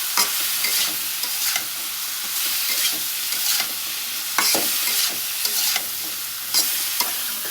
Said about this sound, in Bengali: এইভাবে কষাতে কষাতে এই বরবটিগুলো সিদ্ধ হয়ে যাবে।